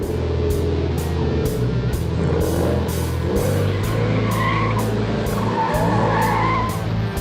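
A Ford Mustang drifting on the Albi race circuit: tires squeal and skid continuously over a loud, steady engine roar, close and intense throughout, with no talking.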